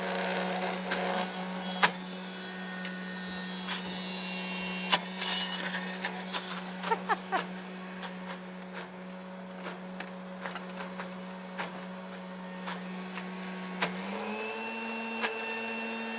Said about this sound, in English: So if you're working with a high-powered blender, it probably won't take quite as long to get smooth